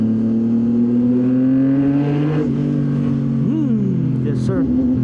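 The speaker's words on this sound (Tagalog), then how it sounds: "Mas malakas yung tambutso niya boys. Ito yung full system eh." A CFMoto 675 NK naked motorcycle with a full-system exhaust idles and revs nearby, a loud steady engine drone that climbs and dips in pitch with throttle blips, while people talk over it.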